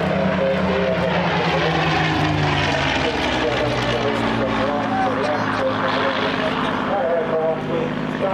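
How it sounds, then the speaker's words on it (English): Propeller airplanes, likely two, fly overhead at an air show at Arnhem with the Battle of Britain Memorial Flight, a loud continuous engine drone with a steady throb filling the whole stretch. "Shame the camera can only follow one airplane, but there is actually two up."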